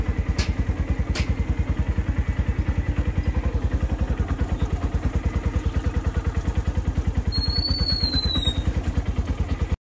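Motorcycle ride on the way to a village sugarcane-crushing and jaggery-making site, with a steady, rapid low thumping engine beat held loud and close throughout, and a brief high squealing tone near the end.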